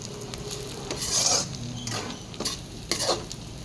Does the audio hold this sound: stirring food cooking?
yes